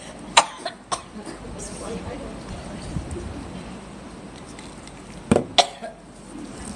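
Several sharp coughs come in small clusters, near and fairly loud, with quiet background between them.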